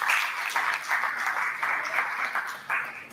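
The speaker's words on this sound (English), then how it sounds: "Can we please put a round of applause for him?" A workshop audience at a biotechnology and biosafety event in Nigeria gives a sustained round of applause, full and steady with slight swells, close and loud throughout.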